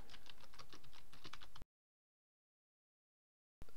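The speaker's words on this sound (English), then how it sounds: "And I'll just type in my first post." Fast, light keystrokes on a computer keyboard while a blog post is typed, a quick burst of clicks that stops abruptly into silence.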